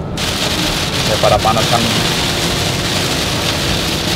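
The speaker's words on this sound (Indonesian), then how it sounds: "Ah enak banget hujan gini mah." Steady rain drums on a moving car during a road trip to Jogja, a dense constant wash of noise that fills the whole stretch, with a brief spoken remark from inside the car.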